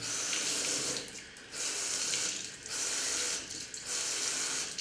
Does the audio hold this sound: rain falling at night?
no